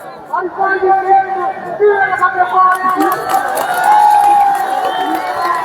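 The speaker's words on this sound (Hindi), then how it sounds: "तालियों की गड़गड़ाहट सुन लीजिए आप।" Crowd at a local cricket match cheering and clapping in a dense, loud wash of voices that builds steadily, with a commentator's voice talking over it.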